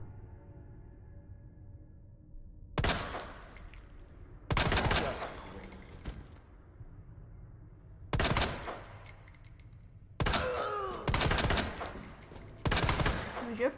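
Pistol gunfire in Resident Evil 2: five loud sharp bursts of shots at irregular intervals, the last ones clustered close together, over a low steady game ambience with no talking.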